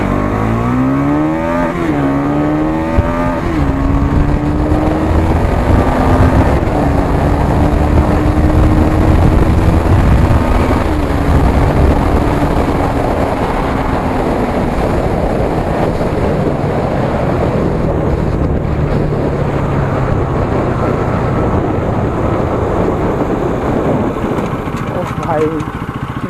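A new Bajaj Pulsar NS200 motorcycle on its first ride, engine droning and rising through revs with shifting pitch, buffeted by heavy wind noise throughout, loud and close for the whole stretch.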